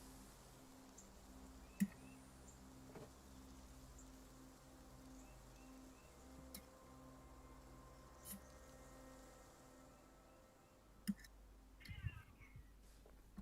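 A pet cat meows a few times in a quiet room, the short cries faint and sparse against steady low hum and background noise.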